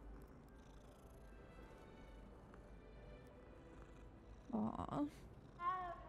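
A cat being petted in Hogwarts Legacy gives a soft low purr under quiet game ambience, then a short meow near the end; a voice briefly speaks over it.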